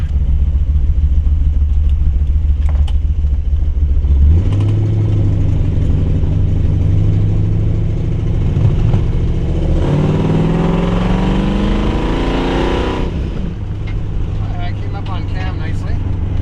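A street rod's engine revs and accelerates, its pitch climbing through gears, loud and close, with a steady rumble between pulls.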